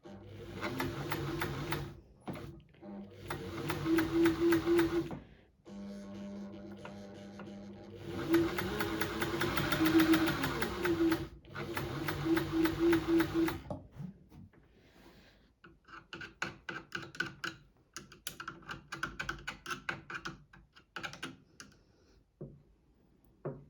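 Necchi sewing machine running with a broken spring, stitching in place without advancing the fabric: bursts of rapid, steady mechanical clatter, several seconds each, separated by pauses, then lighter intermittent clicks and taps at the end.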